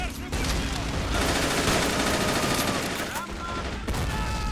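Rifle gunfire in the WWII strategy game Men of War: Assault Squad 2, with dense bursts and fusillades of shots crackling continuously, while someone talks over the battle.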